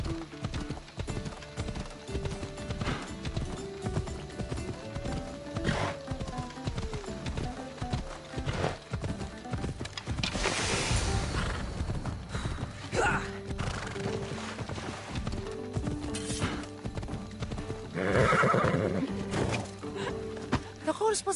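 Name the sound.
horse galloping and neighing, video game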